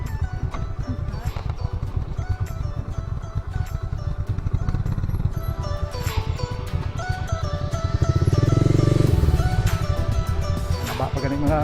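Motorcycles on a rough mountain trail ride near Hamtic, Antique, with engines droning close by and swelling to a louder rev partway through. People talk over the engine noise.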